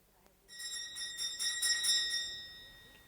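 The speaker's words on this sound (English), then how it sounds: "I have earned the right to use the visitor's bell," A visitor's bell at a house rings in a bright, metallic peal, with a quick run of ringing strokes that hold a sustained shimmering tone and then fade away.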